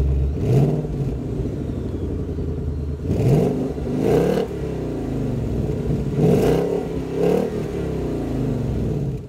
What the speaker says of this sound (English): the exhaust sounds amazing on these Mustang GTs